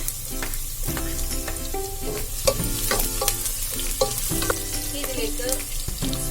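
Garlic, ginger and green chili sizzle steadily in a hot pan for an Indo-Chinese cabbage manchurian, with repeated scraping stirs and clinks of a utensil against the pan and no talking.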